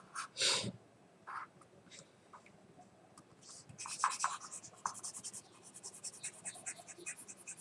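Writing on a board during an accounting lesson: scattered scratchy strokes and taps, sparse at first, then a denser run of quick marker or chalk strokes, faint and close, with no talk.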